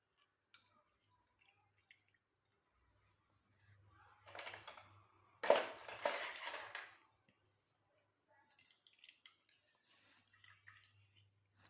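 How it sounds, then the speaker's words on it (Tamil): Fresh orange juice squeezed by hand through a strainer into a bowl gives a short burst of wet squishing and dripping in the middle, loudest for about two seconds, with faint clicks and quiet before and after. "இது மாதிரி வச்சு நம்ம பிழிஞ்சு எடுத்துக்கலாம்"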